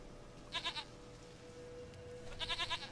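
A goat in The Witcher 3 bleats twice, each a quavering, pulsing cry, one early and one near the end. Both stand out clearly against quiet game ambience with no talking.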